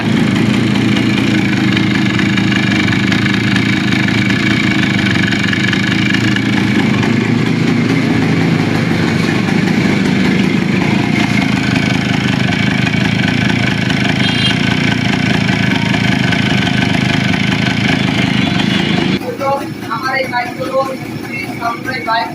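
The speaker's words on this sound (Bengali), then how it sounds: "এই যে দেখতে পাচ্ছেন আমাদের বাইকটা স্টার্টে আছে" A Suzuki Samurai motorcycle engine fitted with a Hero Splendor carburetor idles steadily and loudly close by for the whole stretch, a constant low rumble that cuts to a quieter, busier background near the end.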